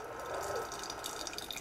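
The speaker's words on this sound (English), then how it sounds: "A little trickling." A Touch single serve coffee brewer trickles hot water nearby, giving a soft, continuous watery gurgle with faint dripping over a steady hiss.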